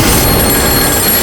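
A phone rings loudly and close by in a tense horror-show scene, the tone sustained and dense, with no talking in the moment.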